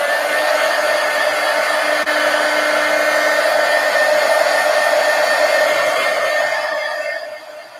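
A hair dryer blows steadily on mixed media artwork for nearly eight seconds, a loud constant whooshing hum that cuts off and fades near the end.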